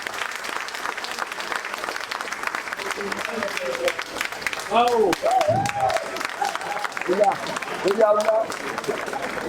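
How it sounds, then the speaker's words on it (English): Audience applauding at a birthday lecture event, sustained clapping throughout with people talking and calling out over it in the middle and toward the end. "please give him a resounding round of applause"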